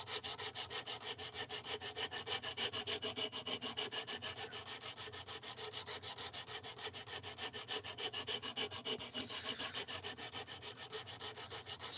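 A knife blade being sharpened with steady, rhythmic back-and-forth rasping strokes, each pass a close, even scrape repeating many times without pause and with no voices.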